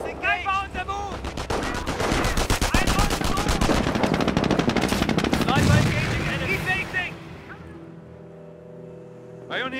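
Dense bursts of machine gun and rifle fire in the Company of Heroes strategy game, with rapid continuous rattling for several seconds, then fading to a low rumble and scattered game voices.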